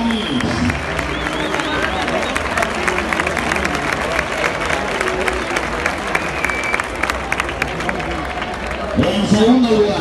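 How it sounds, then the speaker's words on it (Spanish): A festival crowd applauds and cheers for a team of bull-embolador performers, producing a dense, steady wash of loud clapping and crowd noise that continues throughout. Voices and hubbub mix into the ovation. "Así que, con ese fuerte aplauso para la cuadrilla, El Samís."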